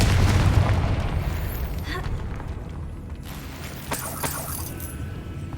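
A Confringo blasting spell goes off in Hogwarts Legacy as a loud, rumbling explosion at the outset that decays into a lingering, fading roar, with a smaller pop later on.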